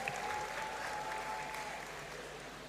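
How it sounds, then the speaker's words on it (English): Audience applause fills a great hall at a university graduation ceremony, steady dense clapping from a large crowd that holds evenly throughout and eases slightly toward the end, with a faint tone running underneath. "Let's give her another round of"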